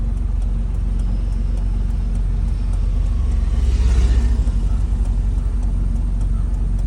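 A car engine rumbles low and steady as the clutch is eased to the half-clutch point, the drone swelling slightly into a heavier shuddering vibration for a moment before settling back.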